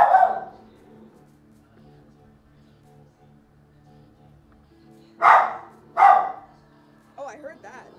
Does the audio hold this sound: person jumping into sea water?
no